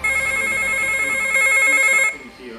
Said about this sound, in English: The phone rings, and he instinctively knows who it is.